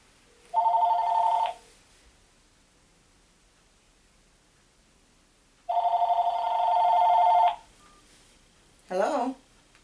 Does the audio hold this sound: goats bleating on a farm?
no